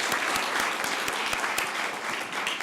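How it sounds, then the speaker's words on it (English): A council meeting crowd applauds teachers, parents, administrators and principals, a dense steady round of clapping from many hands that holds at an even level throughout with no talking over it. "let's give them a round of applause"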